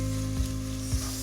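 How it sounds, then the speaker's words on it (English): Chopped onion fries in hot oil with a loud, steady sizzle, broken by two quick stirring scrapes, close and with no voices. "So even this has to be fried for a few seconds, about 5 seconds or so."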